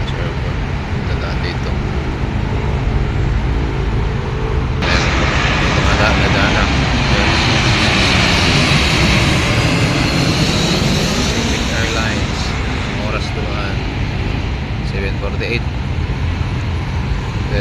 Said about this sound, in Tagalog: Dito na daan yung mga lumilipad na aeroplano galing sa airport.